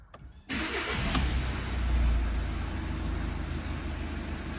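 A VW 1.6 TDI diesel engine, just fitted with a new timing belt and water pump, cranks briefly and fires into a loud, steady idle that revs slightly before settling, heard up close.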